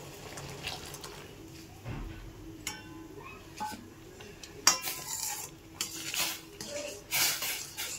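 A cornflour and grape food colour mixture is poured into a pan and stirred for grape jelly, with clinking of cutlery on cookware, a brief liquid pour and soft scraping strokes at moderate volume.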